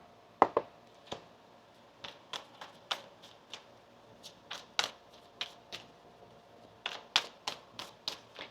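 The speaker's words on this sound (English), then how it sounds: "One more shuffle here." Tarot cards are shuffled, giving a series of soft, sharp snaps and flicks at irregular intervals, close and fairly quiet, with no talking.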